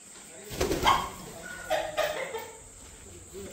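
Chickens cluck and squawk nearby in two short bursts, separated by quiet moments.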